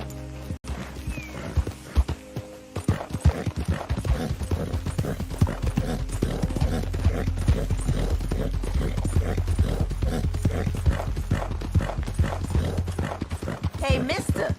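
Rhythmic clip-clop of horse hooves at a steady trot in the video game Red Dead Redemption II, close and continuous, with a brief whinny near the start.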